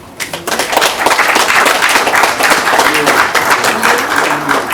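A crowd at a gathering breaks into dense, loud applause for an introduced guest, a sustained close wash of many clapping hands that swells quickly and holds steady.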